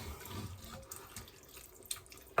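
Tap water runs steadily into a pot while vegetable soup is cooking, a continuous broadband splashing stream heard up close, with a few sharper clinks and drips near the end.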